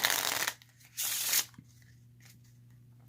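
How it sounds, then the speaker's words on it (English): A deck of playing cards shuffled by hand, with two quick riffling bursts close by, separated by a short pause, followed by quieter handling and a faint steady hum. "just have them shuffle up the cards"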